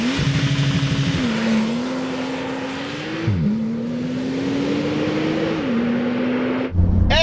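Porsche 911 Turbo S on a public road, its engine note rising steadily through the gears with sustained loud tone, brief dips at shifts and a sharp break near the end.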